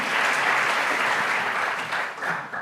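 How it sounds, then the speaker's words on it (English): Warm round of applause from a seated audience at a public conversation event on Greece's economic and digital transformation, a dense steady wash of many clapping hands, loud and sustained, tapering slightly near the end. "please join me in a warm round of applause"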